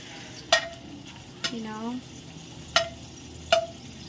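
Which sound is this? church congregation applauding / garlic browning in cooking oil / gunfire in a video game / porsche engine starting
garlic browning in cooking oil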